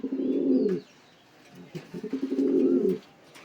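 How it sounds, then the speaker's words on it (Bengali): A Lahori male pigeon coos in two deep, throaty bursts close by, with a short quieter gap between the rounded rolling calls. "পুরা ইউসুফের একটা লাহোরি মদ্দা"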